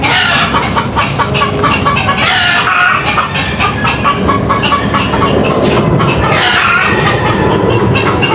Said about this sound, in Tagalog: May manok natin mga idol.